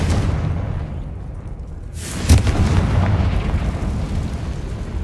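A Confringo spell bursts in Hogwarts Legacy, a sharp booming blast about midway that rises out of a low rumbling game background and leaves a rough roar trailing after it.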